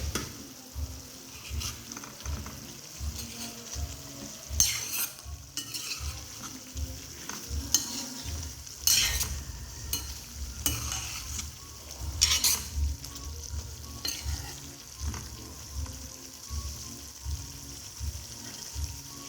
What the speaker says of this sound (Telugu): మధ్య మధ్యలో మనం చికెన్ కలుపుకుంటూ ఉండాలి.